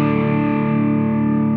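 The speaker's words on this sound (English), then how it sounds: "another Visual Sound pedal, Jekyll and Hyde, is an overdrive and a distortion" Electric guitar played through a Visual Sound Jekyll and Hyde overdrive and distortion pedal, sounding as one sustained, heavily distorted chord that rings loud and steady without a break, alone with no talking.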